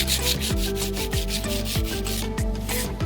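Sandpaper, starting at 180 grit, rubs back and forth over a primed carbon bike frame, making steady rhythmic scratchy strokes, loud and close, with no talking.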